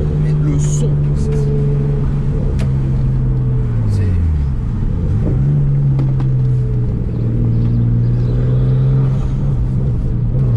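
Nissan R33 Skyline GTS-T, a single-turbo rear-wheel-drive car, with its engine droning steadily and loud close by, rising and falling in pitch a couple of times as revs change.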